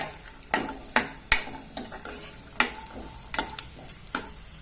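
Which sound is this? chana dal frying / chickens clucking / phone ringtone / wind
chana dal frying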